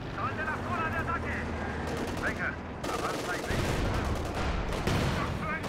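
German soldiers' rifle and machine-gun fire in the strategy game Company of Heroes 2: continuous loud volleys of battlefield shooting with overlapping bursts and rumbling, while voices and in-game chatter sit under the fire.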